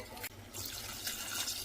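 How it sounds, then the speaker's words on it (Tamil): Water poured into a pressure cooker for mutton bone soup, a short splashing pour that breaks off and then resumes as a steady, close liquid fill. "எந்த அளவுக்கு தண்ணி வேணுமோ அந்த அளவுக்கு தண்ணி வச்சு"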